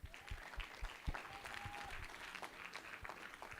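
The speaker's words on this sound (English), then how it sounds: "A round of applause," A conference audience applauds, a faint, steady patter of clapping with a few louder claps near the start and a brief whistle-like tone partway through.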